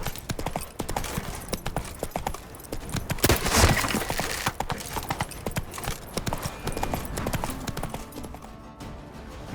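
Roach, the horse in The Witcher 3: Wild Hunt Blood and Wine expansion, gallops with a steady, close run of clip-clopping hooves that swells briefly mid-run before easing off, with no talking.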